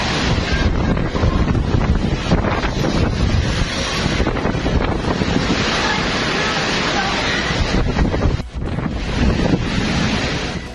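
Typhoon winds in the Philippines, gusting around 230 km/h, roar steadily with loud broadband rushing and surf-like buffeting on the microphone, barely easing for a moment before surging back.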